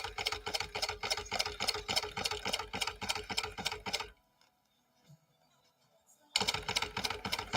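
A sewing machine top stitches a tube of fabric in fast, even, close-up bursts that stop for about two seconds and then resume.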